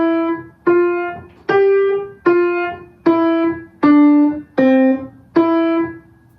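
A short piano melody played with detached, separated notes, eight distinct tones with clear small gaps between them, close and moderately loud, at an even unhurried pace.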